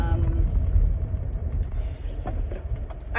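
A car on the road heard from inside the cabin, a steady low engine and road rumble with no other prominent sounds.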